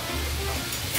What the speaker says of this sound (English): we're going to go ahead and let this brown really good on one side before we flip them